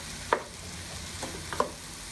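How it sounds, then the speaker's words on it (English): Chopped mushrooms sautéing in a pan, with a spoon stirring through them in two brief scraping bursts over a soft, steady sizzle. "I'm going to add the chopped mushrooms. Stir them in."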